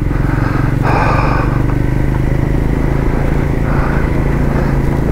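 Royal Enfield Himalayan 450 motorcycle being ridden on a foggy mountain road where black ice is a hazard, its steady engine drone and rumble running continuously close up with wind rush over the top.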